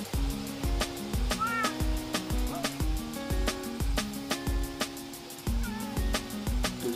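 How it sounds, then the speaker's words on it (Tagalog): Cat meowing repeatedly at a rural farm lot property, several distinct meows spaced through the clip against steady outdoor background noise, with no one talking. "Imbis na aso, pusa po yung nagbabantay."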